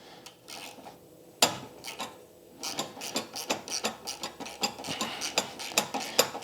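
A ratchet works a 13 carburetor bowl bolt on a John Deere JS60 push mower, with a scattered run of quick, close clicks and rasping scrapes, getting busier and more rhythmic partway through.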